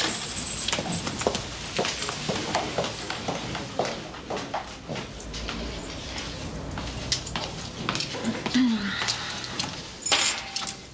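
Spare keys for a meeting room jangle in short metallic bursts amid a busy indoor scene, with footsteps and other movement around them.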